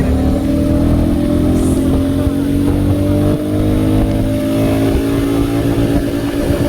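A Royal Enfield Classic 350 motorcycle accelerating hard in second gear, a loud, close, continuous engine drone with steadily rising pitch and heavy wind noise.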